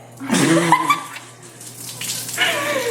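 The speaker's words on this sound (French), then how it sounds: "Mais quel jet satisfaisant!" Water spraying from a shower head onto the wall and floor of a shower stall, a steady close hiss running throughout with a brief louder burst near the start.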